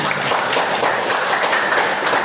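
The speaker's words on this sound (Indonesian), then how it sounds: "berikan tepuk tangan" Students in a classroom clap together after an answer, a loud, dense burst of hand-clapping sustained evenly for a couple of seconds, close and unbroken.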